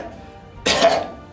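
A voice imitates a rugby player's odd pre-game cough: one short, harsh, throaty cough-like burst, fairly close and alone after a quiet lead-in.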